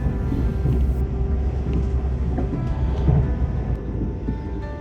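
Steady low rumble and rolling noise of a train travelling through the mountains near Innsbruck, Austria, heard from inside the carriage as a continuous, even drone.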